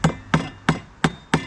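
Hammer blows driving nails while anchoring a wooden deck to a house, five sharp evenly spaced strikes about a third of a second apart, loud and close with no talking.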